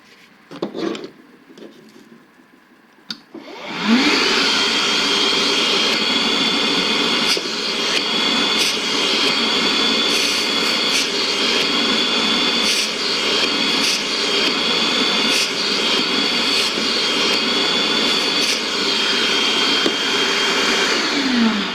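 A Kobalt 3 gallon cordless wet/dry vacuum, model KWDV 0124B-03, starts up after a few quiet clicks and then runs with a loud, steady whine and rush of air, broken by occasional rattles of debris, with no talk.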